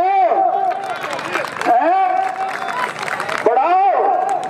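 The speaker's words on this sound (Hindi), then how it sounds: "भाई, जोश बढ़ा दो, थोड़ा ताली तो बजा दो।" Audience clapping and crowd noise at an outdoor kushti wrestling match in Hamidpur, steady and dense throughout, mostly buried under a loud announcer's voice.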